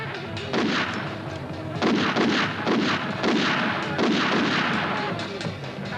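A series of heavy booming blasts and gunfire-like bursts from James Bond film explosions, several rumbling explosions in quick succession, loud and close.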